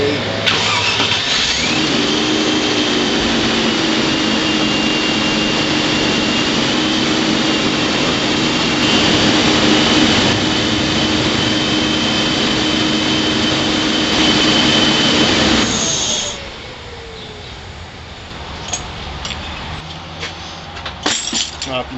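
A 1998 Land Rover Discovery engine idles high and steady nearby with a loud, constant whine, then drops to a quieter, rougher running sound near the end.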